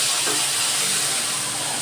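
Milk poured into a hot pan sets off a loud, steady hiss that holds for the whole short moment with a brief bubbling flicker near the start.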